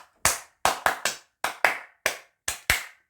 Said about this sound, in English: can we have a round of applause for the next housemate?